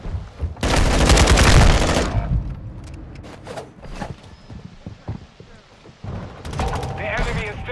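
Gunfire in Call of Duty Modern Warfare II erupts as a loud, dense volley lasting about a second, then breaks into scattered individual shots and a later burst, with voices partly heard between them.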